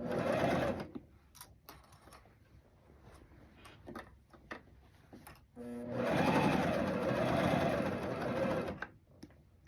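A domestic sewing machine stitches jumpsuit fabric in two bursts, a short run at first and a longer steady whirring run a few seconds later, close and clear, with quiet handling sounds between.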